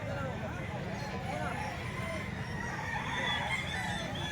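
A gamefowl stag crows at a grotto market amid a busy backdrop of people talking and other birds, the crowing faint and partly buried under the voices.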